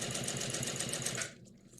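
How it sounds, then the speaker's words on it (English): A sewing machine stitching down a concealed zip, a rapid, even whirring of needle strokes up close that stops abruptly near the end of the short burst. "Right, we're sewing all the way down"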